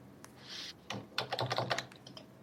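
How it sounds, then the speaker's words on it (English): Fingers type on a computer keyboard in a brief close burst of quick key clicks after a soft rustle, with no one speaking. "I type."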